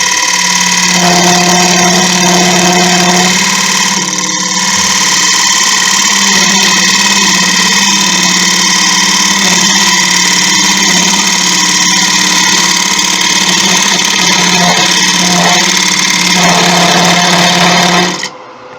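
Wood lathe spinning steadily while a bowl is hollowed, a loud continuous motor hum with a sustained tonal whine, changing slightly in tone as the tool cuts, and stopping abruptly at the end.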